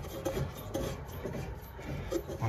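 Old stainless steel pipe being cut by hand with a rasping, back-and-forth scraping rhythm, close and moderately loud, with no voices.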